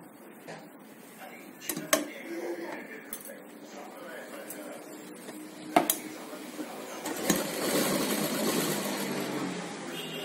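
A sewing machine stitching a child's umbrella frock, heard as short bursts of fast mechanical whirring and clicking with sharp knocks, close, with someone talking quietly between the runs.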